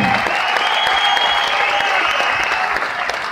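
A boxing crowd at a Herlev fight night applauds two young fighters in the ring, a dense, steady roar of clapping that stays loud and even for several seconds.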